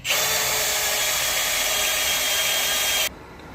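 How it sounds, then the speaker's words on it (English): A power drill whines loudly and steadily as it bores part way into a metal axle casting for about three seconds, then cuts off abruptly, leaving quiet. "all I'm going to do is drill part of the way through, just through the casting"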